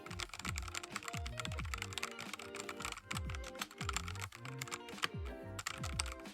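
Fast steady typing on a finished budget custom-built mechanical keyboard, dense clacky keystrokes in quick bursts, close and alone with no talk.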